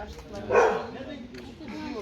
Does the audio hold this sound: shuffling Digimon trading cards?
no